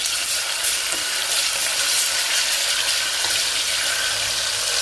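A garlic and coriander paste sizzles in hot oil in a pan for pav bhaji, a steady loud hissing fry with no one speaking.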